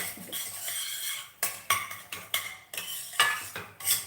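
Coconut and semolina roasting in a pan for rava coconut laddu, a metal spoon scraping and clinking against the pan in quick irregular strokes over a faint low sizzle, close and without speech.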